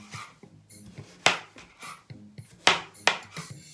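Floral foam cut to a box shape for a flower box, a series of sharp, irregular cutting and tapping knocks with quieter scraping between, close and alone.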